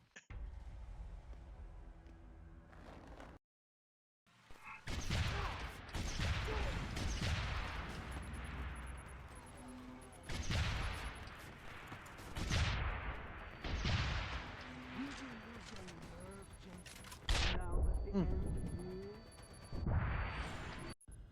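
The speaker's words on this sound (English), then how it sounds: "Grenade launcher for the win" Grenade launcher explosions and gunfire in Deus Ex: Human Revolution, a series of loud booming blasts and bursts separated by short lulls, close and punchy, with a brief silent gap near the start.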